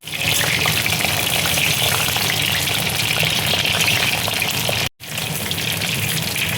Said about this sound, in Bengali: এবার আমি পটলটা তেলের মধ্যে দিয়ে দেবো।